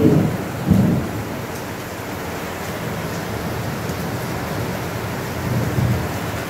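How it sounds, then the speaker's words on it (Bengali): A heavy downpour keeps up a thick, constant roar of rain, with deep thunder rumbles rolling in at the start and swelling again near the end. "কি জোরে বৃষ্টি আর কি জোরে বাজ পড়ছে।"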